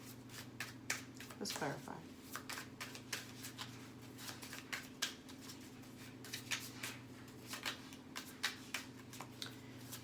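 A deck of cards is shuffled, giving quiet, rapid papery riffles and clicks across the whole stretch, with a person speaking briefly over it.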